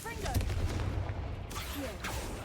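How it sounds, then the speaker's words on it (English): A Confringo blast spell in the video game Hogwarts Legacy bursts with booming, crackling impacts over a rumbling background, with a couple of sharp hits and voices shouting over the din. "Confringo!"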